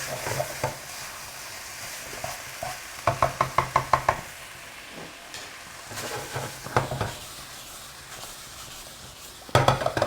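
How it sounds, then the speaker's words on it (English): Leftover quinoa frying in a pan like fried rice, a continuous sizzle broken by bursts of rapid stirring and scraping strokes, close up with no talk. "So we're just gonna fry this."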